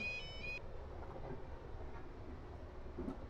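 A steady, faint rumble rolls on inside a train on the Portsmouth Direct Line, and a short, high, ringing warning tone from a railroad crossing sounds at the very start, then drops away under the running noise.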